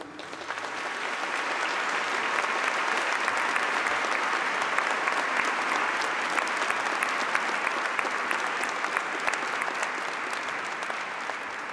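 Conference audience at a bioethics event applauding the speakers, a steady, dense round of clapping that holds evenly for the whole stretch without talk.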